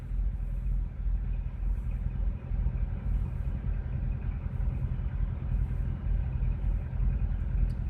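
At a truck stop in Evanston, Iowa, heavy engines idle in a low, continuous rumble with a faint rhythmic throb, steady and moderately quiet, with no voices heard.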